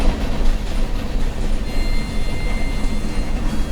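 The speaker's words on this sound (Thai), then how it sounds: "โอเค เรามาอยู่บนรถไฟแล้ว" Train rolling along the rails in a video game, a loud continuous rumble with rattling clatter, heard up close and steady throughout with no speech.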